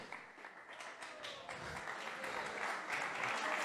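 A small crowd at an art and NFT meetup claps for a podium finisher, a faint, steady patter of applause that swells slightly toward the end, with voices mixed in.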